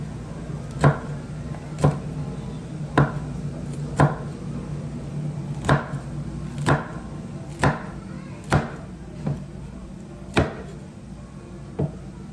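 A knife chopping chili peppers on a cutting board in a home kitchen: about ten sharp, evenly spaced chops, close and distinct over a low background hum, with no talking.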